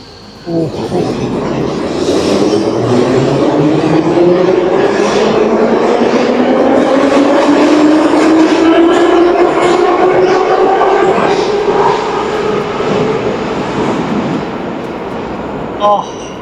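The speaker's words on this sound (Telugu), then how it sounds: "ఆ ట్రైన్ చూస్తేనే భయం వేస్తుంది యాక్చువల్లీ, ఆడ వెళ్ళే సౌండ్కి." A train rushes fast through a station in Georgia, a loud sustained roar of rolling wagons with a rising and falling whine, close by and filling the whole stretch before easing off at the end.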